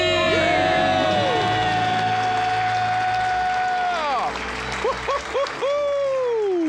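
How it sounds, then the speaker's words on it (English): A crowd at a debt-free celebration lets out a loud, sustained scream and cheer, dense and continuous, with piercing shrieks and whoops sliding up and down across the whole stretch. "Let's hear a debt-free scream."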